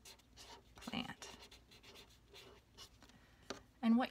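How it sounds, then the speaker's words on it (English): A marker or pencil scratches across paper while a title is written, with short, irregular strokes and pauses, close and fairly quiet; a voice speaks briefly near the end. "get a marker or a pencil, and I'm going to title it"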